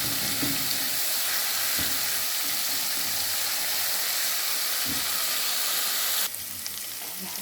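Frozen garlic sizzles steadily in a hot pan, a loud continuous frying hiss with a few soft scraping clicks, cutting off abruptly near the end.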